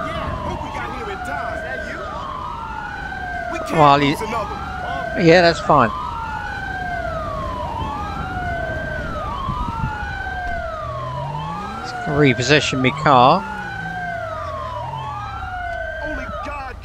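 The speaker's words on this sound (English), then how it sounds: "here comes the ambulance" A wailing ambulance siren in the LSPDFR police game sweeps up and down in a steady repeating cycle, loud and close, while someone talks briefly over it and short bursts of radio-like chatter cut in.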